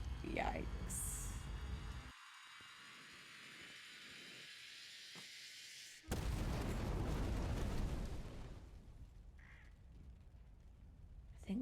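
Fireworks explode in a video game scene, first as a loud broadband burst with hissing, then a drop to quieter rumble before another heavy blast swells and fades, with a few short shrieking calls over the top.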